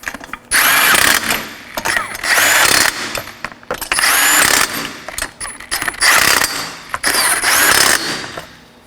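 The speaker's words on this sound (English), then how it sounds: "We're going to tighten these up in a crisscross pattern." A power ratchet tightens front strut assembly fasteners on a 2013-2019 Nissan Sentra, sounding as loud close bursts of whirring and rattling, about five runs separated by short pauses.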